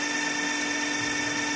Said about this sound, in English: bringing the drill down onto it again